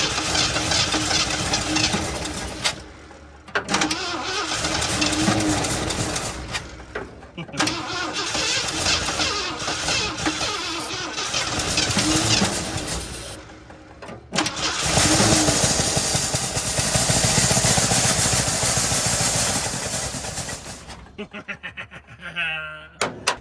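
Abandoned Ford F350 pickup that sat for 22 years, cranking and firing, with its engine running loud and rough in several long stretches separated by brief pauses, and people talking nearby.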